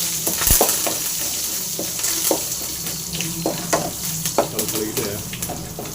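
Neem flowers and chillies frying in oil in a pan, a steady close sizzle broken by scattered crackles and pops, with light stirring scrapes throughout.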